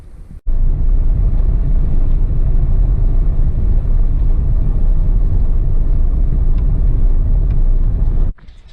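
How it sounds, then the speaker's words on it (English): Strong gusting desert wind buffets the microphone in a loud, continuous low roar that starts abruptly and cuts off near the end. "This time, however, it is gusting winds, very strong."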